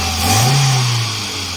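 A car engine fires up and briefly revs, a low mid-pitched roar rising and then settling back toward idle, close and loud, with no talking.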